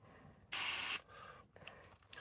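One short, forceful hiss of liquid sprayed from a hand spray bottle, close and loud, surrounded by quiet room sound with small handling noises afterward.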